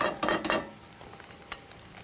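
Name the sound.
bread with egg frying in a pan, being flipped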